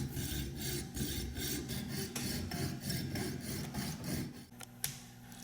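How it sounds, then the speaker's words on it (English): Rhythmic back-and-forth rasping of a saw cutting through a steel spring barrel hook shank, repeated strokes at a steady pace, close and clear. "after sawing off the extended portion of the shank of the spring hook"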